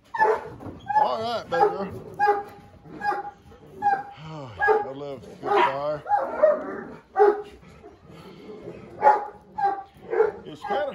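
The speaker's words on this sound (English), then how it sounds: "They're crazy dogs." A dog barks repeatedly in short bursts, close by, while a person talks over it in a warm voice, on a rainy morning.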